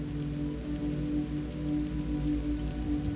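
Steady rain patters on surfaces, a continuous close drumming under a low droning hum.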